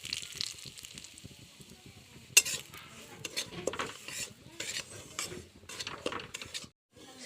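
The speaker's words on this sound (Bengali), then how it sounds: "সুজি ভাজার জন্য কড়াইয়ে একটু তেল দেব," Semolina being fried in a little oil in a wok, stirred with a metal spoon in repeated scraping strokes, with a soft sizzle underneath and one sharp clink of metal.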